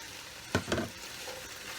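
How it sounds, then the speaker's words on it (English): Onions, celery and parsnip stirred in a frying pot: two quick scraping, sizzling strokes close by over a low background hiss, then quiet. "I'm just going to give this a good stir to get everything combined"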